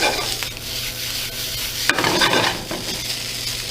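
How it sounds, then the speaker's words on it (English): Rice for Hawaii-style fried rice sizzles and fries in a hot pan, with a spatula repeatedly stirring and scraping through it, one sharper clatter near the middle, steady and close with no talking. "Make sure the rice gets all nice and fried."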